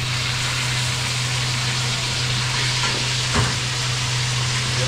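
Garlic, onion and chili sautéing for a spicy wings sauce, a steady broadband sizzle with a low hum beneath and a single brief clink of a utensil near the end, no talk.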